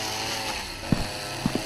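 A chainsaw drones faintly and far off in a horror video game set in an office building, a low steady hum under room tone, broken by a few soft thuds.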